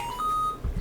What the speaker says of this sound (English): Oh, hey, a phone.